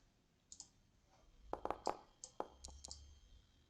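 Mouse clicks in Foundry software: several sharp, close clicks, some in quick pairs, spaced irregularly over a quiet background with no talk.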